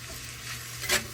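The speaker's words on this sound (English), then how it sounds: "I'm gonna give it a little bit of a sizzle on one side for sure" Ramen noodles frying in a hot pan with vegetable oil, a steady soft sizzle throughout, with a brief louder burst of crackling near the end, no voices.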